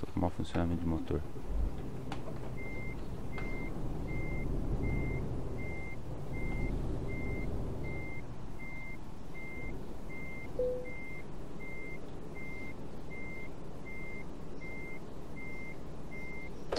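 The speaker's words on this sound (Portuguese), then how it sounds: "Funcionamento de motor." A truck engine idles in Euro Truck Simulator 2, a low steady rumble that fades in and stays, with a regular reversing beep pulsing above it and a brief hiss near the end.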